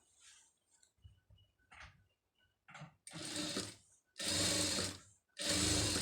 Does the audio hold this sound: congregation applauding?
no